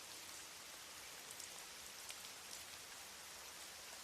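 Rain falling steadily: a soft, even hiss of drops with occasional faint patters, continuous and distant-sounding, with no voices.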